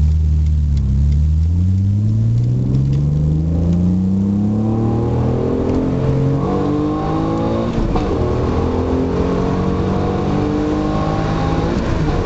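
An Alfa Romeo 156 3.0 V6 supercharged engine revs loudly through an exhaust made for the stock 2.5-litre, pitch climbing steadily, dropping briefly, then rising again in a continuous throaty roar.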